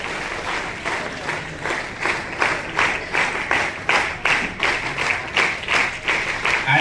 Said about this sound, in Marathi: जोरदार टाळ्या आपण सागर गोंबलेसाठी वाजवूया.